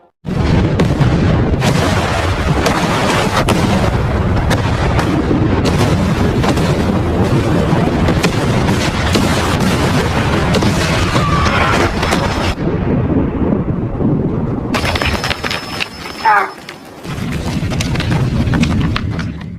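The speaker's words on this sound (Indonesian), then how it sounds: "Om John kemudian meledakkan terowongannya" A long stretch of loud, rumbling explosions and booming blasts from a tunnel being blown up, continuous and dense, with a brief drop-off and a few sharper noises near the end.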